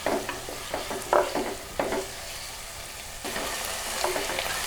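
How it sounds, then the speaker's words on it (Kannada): Capsicum and tomato frying over a high flame for vegetable pulao, a steady sizzle broken by several scraping stirs of a spatula in the pan. "ಫ್ಲೇಮ್ ಸ್ವಲ್ಪ ಜಾಸ್ತಿ ಇಟ್ಕೊಂಡು ಫ್ರೈ ಮಾಡ್ಕೊಳ್ತಾ ಇದ್ದೀನಿ."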